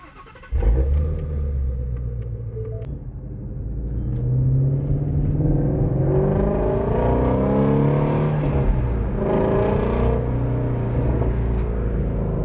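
A Ford Mustang GT350 fitted with a new exhaust fires up after a brief cranking sound, then settles into a loud, steady, raspy idle that swells slightly in volume, close by and with no talking over it.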